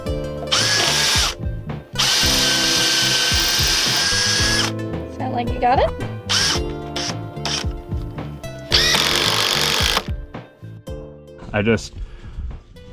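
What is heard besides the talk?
power drill drilling pilot holes and countersinks in wood plank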